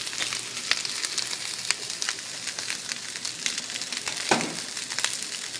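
Fried rice with egg and vegetables reheating in a hot pan, a steady dense sizzle and crackle close by with occasional scrapes of stirring, no talking.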